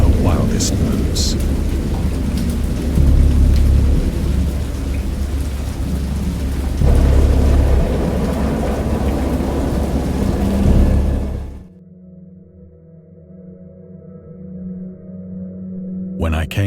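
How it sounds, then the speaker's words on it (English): Heavy rain pours steadily with rolling peals of thunder booming through it, loud and close, before the downpour cuts off abruptly, leaving only a low, quiet rumble. "I heard peals of thunder and other tones which nature utters only in her wildest moods"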